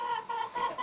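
A hen pulled off her nest in a farm building gives short, close, fretful clucks in three or four quick pulses, with no voices over them.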